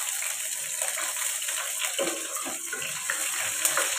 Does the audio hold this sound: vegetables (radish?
yes